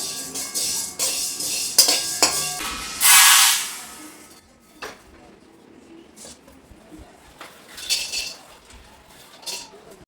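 Whole spices for a Khandeshi garam masala stirred and dry-roasted in a hot kadai over low gas, with metal spoon scrapes and clinks, a short burst of hiss, then quieter intermittent scraping and rattling close by.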